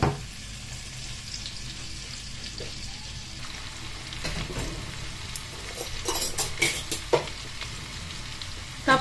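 Onion sautéing in a pan, a steady close sizzle with scattered clinks and scrapes of stirring that grow busier toward the end, no voices.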